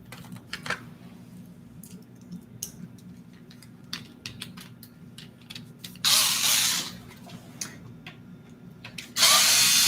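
Cordless drill set to a low clutch setting drives screws into plastic parts, giving two loud, close whirring bursts of about a second each, with light clicks and handling taps between them and no talk.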